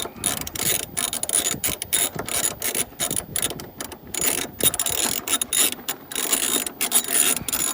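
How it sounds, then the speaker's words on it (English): A ratchet with a deep 13mm socket turns loose conductor nuts off a Huawei 45 KTL solar inverter, giving rapid, close clicking pawl bursts in repeated strokes with short pauses, loud and steady throughout. "we got our deep 13mm socket to take off these conductors"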